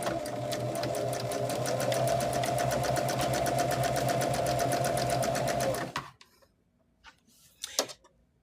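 A sewing machine stitches a quarter-inch seam on a quilt top, with a loud, close, rapidly ticking whir for about six seconds before stopping, followed by a few faint clicks and handling sounds.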